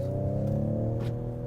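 Inside the cabin of a 2019 Ford Edge ST, an artificial engine sound is piped in as a steady, humming drone with no voices.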